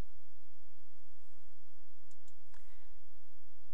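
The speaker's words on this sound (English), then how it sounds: "simply go to your Generations program and click on Help" A computer mouse clicks a few times as menus open in the Generations program; the clicks are faint, quick and close together against a steady low hum, with no talking.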